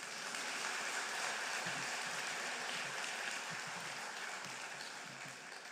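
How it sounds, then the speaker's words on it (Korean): Steady, dense applause from a church congregation runs unbroken across the whole span, with only faint low murmurs of voices beneath it. "박수하겠습니다."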